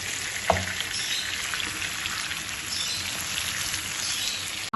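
Chicken pieces frying in oil in a wok give a steady, close hiss of sizzling, with one sharp clunk near the start.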